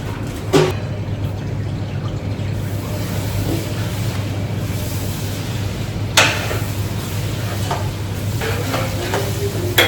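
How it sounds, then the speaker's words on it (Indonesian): Garlic, lime leaves and chili sauté in a pan with a steady sizzle and a low hum underneath, broken by a few sharp clacks of a utensil against the pan. "Ini bawang putih, daun jeruk, tumis, kasih cabai, tumis matang ya."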